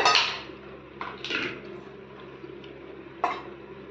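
A metal lid settles onto a pot of chicken curry with a few close clanks and clinks, one sharp knock near the start and another near the end, otherwise quiet kitchen.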